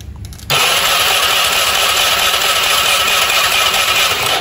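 A freshly built Honda Beat carbureted 130cc motorcycle engine with standard valves is turned over on its electric starter with the spark plug removed. After a brief quiet start, a loud, steady mechanical whir runs close up for about four seconds without firing.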